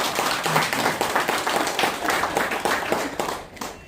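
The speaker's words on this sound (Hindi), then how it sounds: "अगर जबरदस्त है तो ताली क्यों नहीं बज रही?" A seminar audience breaks into clapping, a moderate, fairly dense patter of many hands that continues steadily before fading slightly near the end.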